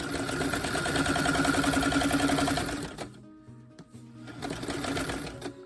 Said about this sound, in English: And I'm going to back stitch it and front stitch it.